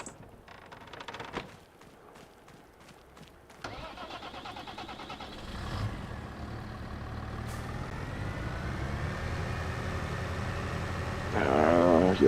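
A truck engine in Farming Simulator 25 cranks and starts after a few clicks and clatters, then settles into a steady idle that grows louder and richer, swelling further in the last second.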